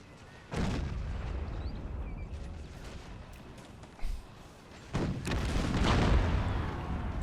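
Cannon artillery fire in Empire Total War: booming shots, one near the start, a short thud at four seconds and another heavy blast near five seconds, over a continuous battle rumble.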